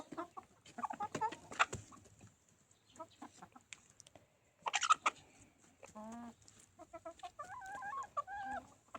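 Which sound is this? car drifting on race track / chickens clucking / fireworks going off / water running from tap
chickens clucking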